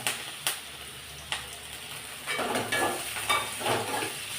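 Tomatoes frying in a pan for a home-cooked New Year's Day meal, a steady soft sizzle with a few sharp clicks and stirring scrapes, fairly close and moderately quiet, with no talk.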